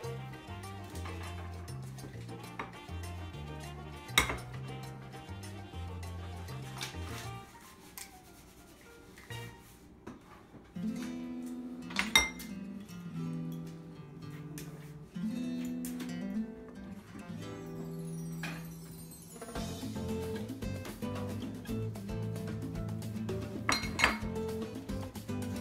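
An egg being beaten in a bowl for pad thai: quick, repeated clinking and scraping of a utensil against the dish in uneven bursts, close and fairly quiet, with music underneath.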